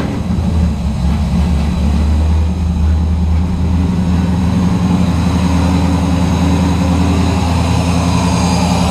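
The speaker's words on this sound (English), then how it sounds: "Do you want to start the car for me?" Mazda RX-7 FD rotary engine idling steadily after starting, a loud, close, continuous low drone with a slightly uneven pulse as the idle control is being adjusted, no talk over it.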